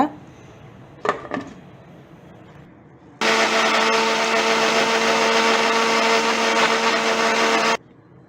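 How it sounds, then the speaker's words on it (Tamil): An electric mixer jar blends carrot and orange pieces: after a couple of faint clicks, the motor starts abruptly with a loud, steady whirring roar, runs for about four and a half seconds, then stops. "ஜார்க்குள்ளே போட்டு அதையும் நீங்கள் வந்து அடித்து எடுத்துக்கோங்க"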